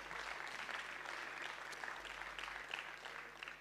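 A festival crowd claps together in steady, sustained applause that fills the whole stretch without pause.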